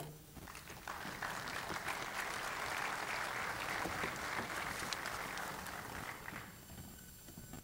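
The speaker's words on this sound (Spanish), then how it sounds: "Un aplauso." Seminar audience applauding steadily for several seconds after a speaker's introduction, dense even clapping in a room, fading out at the end.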